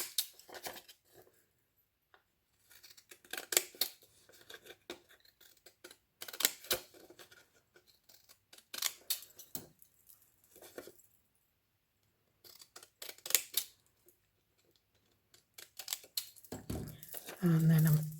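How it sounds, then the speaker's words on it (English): Deckle-edge scissors snip up the side of vintage book-page paper tags in short crisp bursts, with quiet pauses between and someone talking over the work. "I go with my deckled scissors up the edge just to give it that oldie ripped look"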